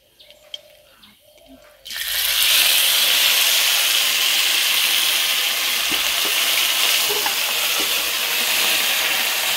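Black cumin seeds hit hot oil, and after a quiet moment a loud, steady sizzle bursts in and keeps hissing evenly close by.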